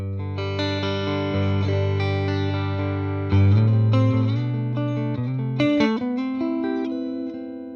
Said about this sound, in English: we get super clean, sparkly clean tones that are great for a pedal platform